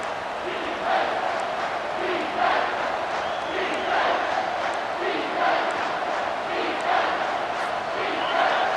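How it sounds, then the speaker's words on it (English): A stadium crowd in EA Sports College Football 26 roars continuously throughout, a dense, steady wall of cheering with swells every second or so and no clear speech over it. "this crowd is tearing the lid off this place"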